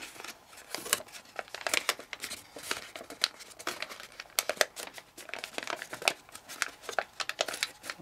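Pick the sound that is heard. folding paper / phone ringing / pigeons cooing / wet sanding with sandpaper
folding paper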